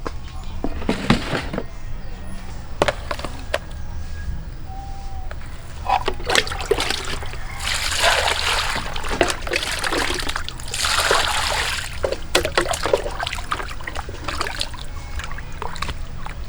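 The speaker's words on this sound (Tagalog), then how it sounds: "Hugasan nyo ng mabuti yung karne" Pieces of pork are washed by hand in water outdoors, with irregular splashes, sloshing and trickling dribbles that come in bursts and pauses over a low background hum.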